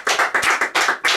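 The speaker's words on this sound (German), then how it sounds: "da geht auf jeden Fall nochmal ein Applaus an Robin Hood." A short burst of hand clapping, a few quick close claps in an uneven rhythm, with no voices.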